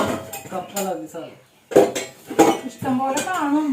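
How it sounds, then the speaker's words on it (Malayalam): Pots and dishes clink and knock in a home kitchen in several irregular bursts as they are handled, with a short pause midway and voices in the background. "ഇഷ്ടംപോലെ പാത്രങ്ങളാണ് കേട്ടോ"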